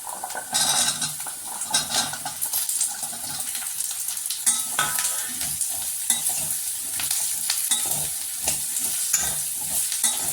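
Yellow pumpkin pieces stir-fry in a pan with curry leaves, a steady loud sizzle running throughout under continuous scraping and clattering of a spoon against the metal.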